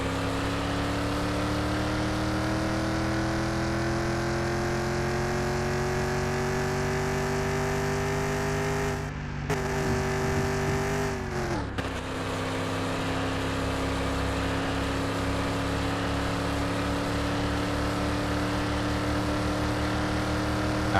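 A Ford Maverick's engine runs steadily in Car Mechanic Simulator 2021, its tone rising gradually and then dropping through two short breaks, like gear shifts, before it settles into a low, even drone.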